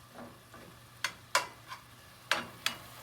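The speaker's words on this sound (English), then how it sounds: "So let's just stir it up." Ground beef stirred in a pot while browning, a series of sharp scraping and clattering strokes at an uneven rhythm, close and fairly loud, with a faint sizzle underneath and no talking.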